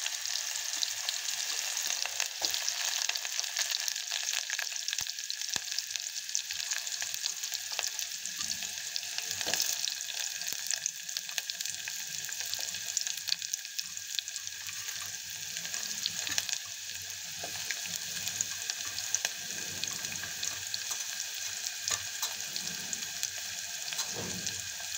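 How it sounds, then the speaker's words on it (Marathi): Chopped onion frying in oil with mustard seeds and cumin in a pan for potato bhaji, a steady bright sizzle running without pause, close and fairly loud, with occasional faint stirring scrapes and no voices. "हा कांदा थोडासा लालसर होतो तोपर्यंत आपल्याला परतून घ्यायचा।"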